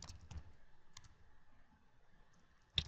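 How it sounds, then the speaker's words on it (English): Sparse keystrokes on a computer keyboard as a username is entered, a few quiet clicks spaced out with a sharper tap near the end, no talking. "And then just type in your username."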